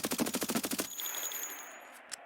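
Gunfire in Escape From Tarkov: a fast automatic burst of about a dozen evenly spaced shots that stops abruptly, leaving a fading echoing tail.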